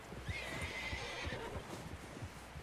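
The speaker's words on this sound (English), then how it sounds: "Someone help John down off this horse" A horse in Red Dead Redemption 2 whinnies once in a drawn-out call while its hooves clip-clop in a steady, even rhythm underneath, fairly faint overall.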